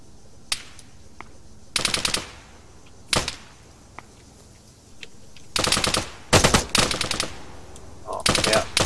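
Gunfire during an ARMA 3 combat patrol, scattered sharp single shots and several short automatic bursts of varying loudness, some close and punchy, others thinner and more distant.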